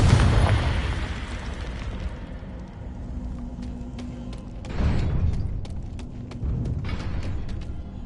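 Confringo fire spell detonating in the Hogwarts Legacy video game, a loud booming blast followed by rumbling debris, a second burst partway through and sharp ticking crackles scattered on top.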